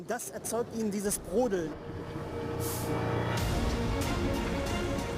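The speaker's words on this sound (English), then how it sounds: "The bubbling sound you can hear stems partly from the magnesium." A voice speaks briefly, then a steady, dense bubbling roar of molten metal, caused by vaporizing magnesium, takes over and continues evenly to the end.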